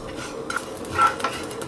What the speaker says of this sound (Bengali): এই জিরা এবং ধনিয়াটাকে আমরা একটু টেলে নিয়ে এটাকে গুঁড়ো করে নিব